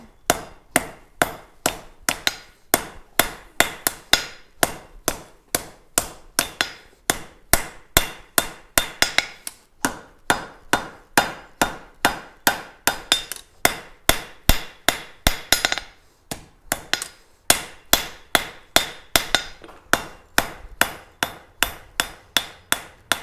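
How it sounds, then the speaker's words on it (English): A hammer strikes hot metal at a gas forge, a long steady series of sharp ringing blows repeated roughly every half second, close and loud, with a few brief pauses and no speech. "Not until your first hammer hit."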